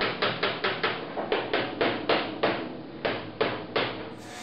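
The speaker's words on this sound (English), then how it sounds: "I'm just going to get in there with the full chisel and a few well-placed blows." Steel chisel struck with a hammer while fitting a replacement car door pillar, about fifteen sharp, evenly spaced blows ringing close and loud, with no talking.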